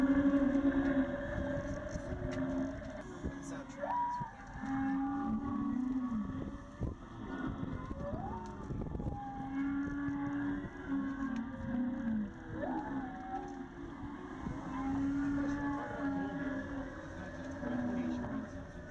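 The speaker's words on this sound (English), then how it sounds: "the songs and the voices of the actual humpback whales" Long, moaning humpback whale songs rise and fall in pitch, some ending in upward sweeps, over a steady low hum throughout, heard from a whale-watching boat off Maalaea, Maui.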